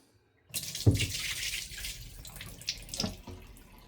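Tap water gushes into a tub to rinse a dirty rug, starting abruptly after a brief silence and then running as a steady close splashing stream with a few louder splashes.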